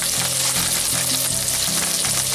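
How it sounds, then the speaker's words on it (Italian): Diced prosciutto and shallot fry in extra virgin olive oil for pasta e fagioli, a loud, dense, continuous sizzle close to the pan with a few soft stirring knocks underneath. "ci ho buttato il nostro prosciutto con lo scalogno, facciamo soffriggere per bene"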